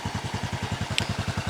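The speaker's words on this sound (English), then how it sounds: "So you can hear their fuel injection, and just a really nice, quiet engine note there." Honda Super Cub motorcycle, with fuel injection and 47,000 kilometres on it, idles with a quiet, steady, even engine putter that pulses rapidly and evenly throughout, with one brief click partway through.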